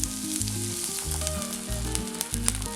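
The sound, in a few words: water poured into pan of sautéed brinjal, sizzling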